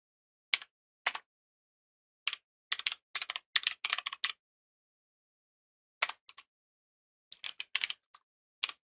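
Code being typed on a computer keyboard comes through as quiet, close clusters of quick keystrokes separated by short pauses, with no talking.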